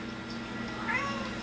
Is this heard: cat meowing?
yes